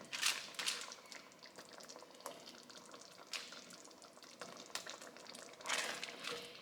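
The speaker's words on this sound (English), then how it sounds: "Then I'm going to add some of the bacon." Bacon goes into a pan of gravy for shrimp and cheesy grits, with a faint, steady sizzle broken by light clinks and stirring scrapes, and no one talks.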